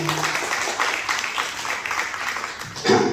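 Applause from an audience at a motivational business meeting, steady dense clapping that ends in a brief louder burst.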